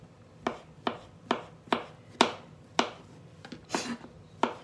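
A kitchen knife slices mushrooms on a cutting board at home, giving about ten crisp, close knocks at a slightly uneven, unhurried pace with quiet gaps between strokes.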